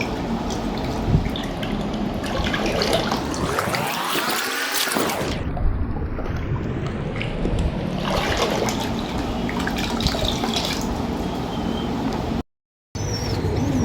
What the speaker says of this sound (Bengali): এবার পানিটা ভালো মতন মিক্স করে নেব